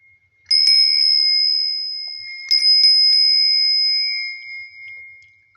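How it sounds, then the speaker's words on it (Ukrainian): A small bell gives two clear, bright rings, a few seconds apart, each one sustaining and slowly decaying in an otherwise quiet room. "Ось і пролунав наш чарівний казковий дзвоник."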